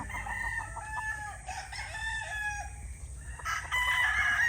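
A banded gamefowl stag nearby gives several harmonic crows and short calls over a low background rumble, with louder crowing toward the end.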